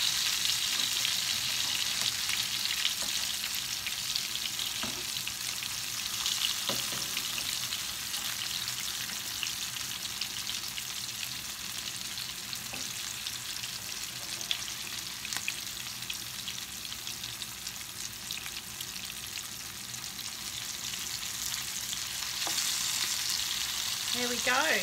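Fish fries in hot oil in a pan, giving a continuous crackling sizzle with scattered pops and spits that carries on steadily and fairly close for the whole stretch, with no voices.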